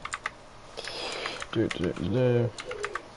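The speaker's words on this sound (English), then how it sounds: "the pigeon's gone off again" A pigeon coos outside an open window, a few low rounded calls close by, mixed with keyboard typing and brief speech in the room.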